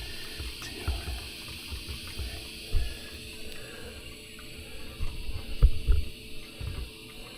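Espresso streams from both spouts of a La Pavoni lever machine into cups, a soft steady trickle with faint drips and gentle liquid splashes close by.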